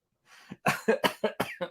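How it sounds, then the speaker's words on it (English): A burst of several coughs in quick succession, close and fairly loud, after a soft throat sound. "you guys are gonna get me coughing"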